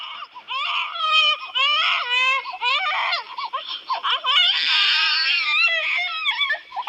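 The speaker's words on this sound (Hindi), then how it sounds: "इस जंगल में किसी बच्चे की रोने की आवाज आ रही है" A baby wails in a jungle in a continuous, close and loud series of high, rising and falling cries with short gasping breaks, with no other voices.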